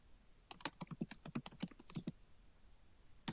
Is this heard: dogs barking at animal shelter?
no